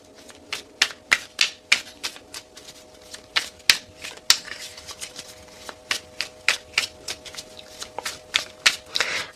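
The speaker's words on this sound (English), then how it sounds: "I know everybody hates the shuffling." A deck of tarot cards being shuffled on a table, with repeated sharp riffling bursts in an uneven rhythm, close and fairly loud against a quiet room, with no talking.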